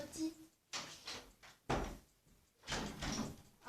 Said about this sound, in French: Ma porte s'est ouverte